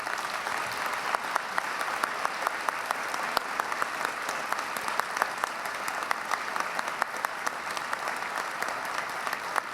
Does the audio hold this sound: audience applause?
yes